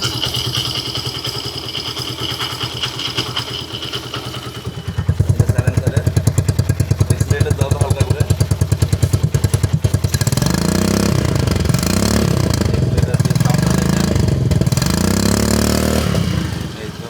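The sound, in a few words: motorcycle engine running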